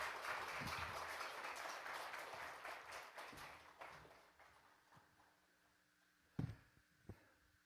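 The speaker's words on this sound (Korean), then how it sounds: "우리 목사님을 환영하는 마음으로 박수로 목사님 모시겠습니다" Applause from a church congregation welcoming a visiting pastor at a Sunday afternoon service, broad clapping that fades over several seconds into a quiet hall with a couple of isolated sharp knocks.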